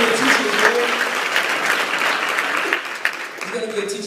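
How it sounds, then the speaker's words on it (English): Audience applause fills the space steadily, moderately loud, with some voices mixed in under the clapping. "So can we clap it up for that brother?"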